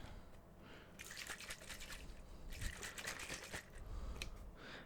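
GFuel energy drink being shaken hard in a plastic shaker bottle, close up, with liquid sloshing in several rough bursts and short pauses between them and no talking.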